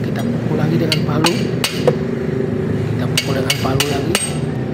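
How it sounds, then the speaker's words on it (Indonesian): A hammer strikes a wrench to loosen a rear wheel bearing bolt on a Nissan Evalia, giving several sharp, ringing metallic blows at irregular intervals over workshop background noise and a murmuring voice. "kita pukul lagi dengan palu."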